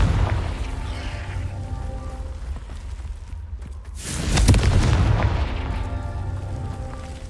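Confringo explosion spell cast in Hogwarts Legacy, a low rumbling boom that swells and fades over a steady background of game ambience, heard once without speech.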